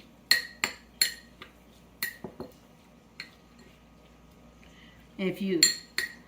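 A utensil clinks against a bowl while spices are mixed into shad fish, giving several sharp metallic taps and scrapes spaced irregularly, then a brief soft shuffle near the end.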